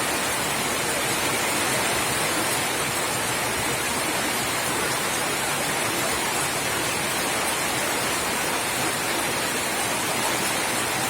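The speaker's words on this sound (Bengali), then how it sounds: "কি পরিমাণ বৃষ্টি পড়তেছে।" Heavy rain pours down steadily during a flood, houses taking in water, making a dense, unbroken roar that stays loud and even throughout with no voices.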